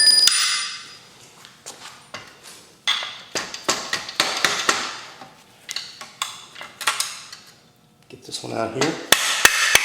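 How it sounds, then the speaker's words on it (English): Sharp metallic hammer blows on a chisel against a part of a Yamaha DT80 enduro motorcycle, a series of irregular ringing strikes up close, with a brief spoken remark among them. "hammer and a chisel here."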